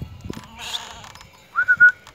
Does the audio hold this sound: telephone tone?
no